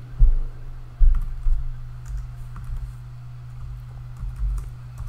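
Keys on a computer keyboard click irregularly as a database command is typed, with a couple of heavier keystrokes standing out over a steady low hum.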